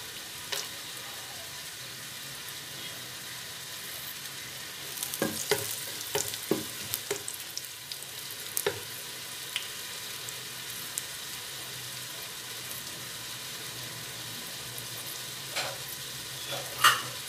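Whole cloves, cardamom pods and cinnamon pieces sizzle quietly in oil in a pot for biryani, a steady soft frying hiss with occasional scrapes and taps from stirring.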